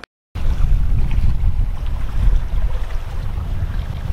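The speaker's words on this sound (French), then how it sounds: "on a un petit peu de vent" Light wind buffets the microphone aboard the sailboat La Désirade on a Norwegian sea, a steady low rushing noise after a brief silent start, with no voices.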